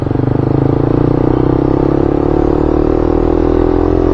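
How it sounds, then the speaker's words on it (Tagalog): A small engine fitted with a power exhaust pipe revs up close with a deep, throaty, buzzing, bassy exhaust note that climbs steadily in pitch. "parang scooter lang na naka power pipe, ganun lang tunog niya"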